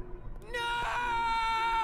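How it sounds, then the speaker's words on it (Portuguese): A dramatic female scream from the Kingdom Hearts Re: Chain of Memories video game on PS4 rises after a brief vocal lead-in and holds as a loud, sustained tonal cry. "Que grito dramático do cacete, velho."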